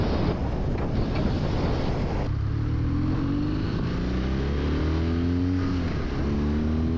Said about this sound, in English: They sound so good, you don't feel like letting go of the throttle.